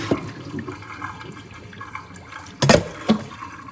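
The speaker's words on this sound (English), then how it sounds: "I'm going to take that water out." Water sloshes and pours out of a pot of tripe being drained while making menudo, a low gurgling run with a louder splashing surge near the end.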